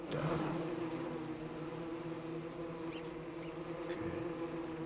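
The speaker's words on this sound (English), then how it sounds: "A bee biome or something." Bees in a bee biome of the Don't Starve video game buzz continuously in a dense, droning swarm, with a few brief higher chirps over the steady hum.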